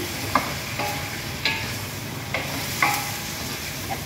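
Mixed vegetables stirred and frying in a pan sizzle steadily, with a utensil scraping and clinking against the pan every second or so, close and alone.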